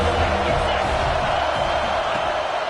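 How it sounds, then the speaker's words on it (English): Stadium crowd noise from the College Football 26 video game, a dense, steady roar of many voices swelling before a third-down play, loud and continuous throughout with no distinct cheers standing out. "This crowd knows when to bring it."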